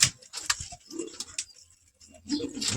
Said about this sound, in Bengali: দেখুন কালশিরা চুটিয়াল পায়রা